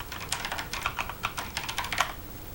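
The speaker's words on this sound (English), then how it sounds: "If I try typing debug text" Rapid typing on a computer keyboard, a steady run of close, crisp key clicks with uneven rhythm and slightly louder strokes now and then.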